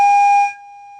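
A steady electronic tone plays loudly from a mobile phone speaker beside a burning candle, a single pure pitch with bright overtones that holds unchanged, sounding fuller at first before settling into a thinner sustained beep.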